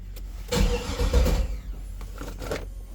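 A custom car that won't start is cranked with the brake pressed, giving a short burst of starter whirring and engine churning that fades to a low idle-like rumble, close and with no talking.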